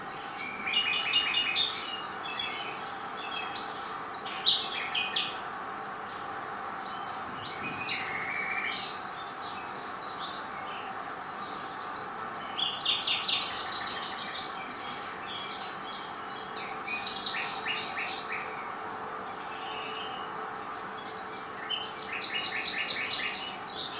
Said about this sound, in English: This is the nightingale singing.